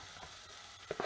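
Vegetables with a spoonful or two of oil cooking in a pan, a quiet steady sizzle with a couple of soft stirring clicks near the end.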